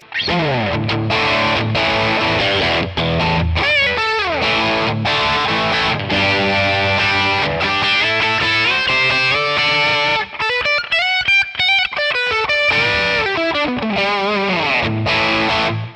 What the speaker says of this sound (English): And here's the Classic Reverb.